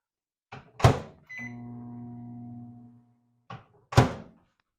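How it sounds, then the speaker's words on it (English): A microwave oven heating water: the door thunks shut, the oven hums steadily for about two seconds, then the door clunks open again, close and with no talk. "I'm going to pop this in the microwave real fast, but not for too long."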